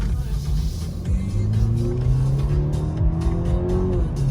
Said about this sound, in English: just a couple shifts so you guys get a good feel of it